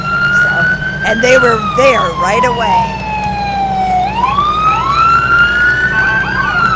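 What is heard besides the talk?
police car siren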